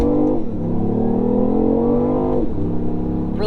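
BMW i8 hybrid with a three-cylinder engine accelerating hard at about three-quarter throttle, a loud, close engine note climbing steadily through the gears with a brief dip at each shift.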